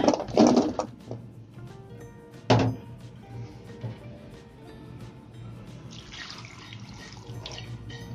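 Tap water runs into a cooking pot for boiling purple sweet potatoes, starting with a gushing splash, then a knock and a steady filling trickle with metallic clinks.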